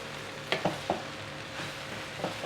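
Rice fries with coriander on high flame: a few quick spatula scrapes and stirs come close together over a faint, steady frying hiss, and the whole is fairly quiet.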